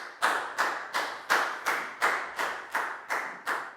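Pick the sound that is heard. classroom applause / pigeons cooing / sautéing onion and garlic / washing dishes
classroom applause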